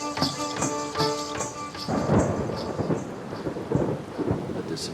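Heavy rain pours steadily while thunder rumbles and cracks close by, the downpour loud and continuous throughout.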